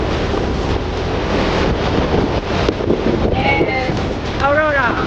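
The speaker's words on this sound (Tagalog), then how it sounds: "Napakalakas ng alon." Strong ocean waves at Baler beach in Aurora crash and roar loudly and continuously, mixed with heavy wind buffeting the microphone, while voices call out briefly near the end.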